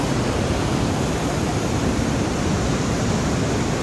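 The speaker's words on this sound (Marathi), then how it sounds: "आज मी यावर्षी पहिली भेट सहस्त्रकुंड धबधबा बघण्यामध्ये टाकलेली आहे." The Sahastrakund waterfall roars with dense, unbroken broadband rushing water, loud and close, with no voices.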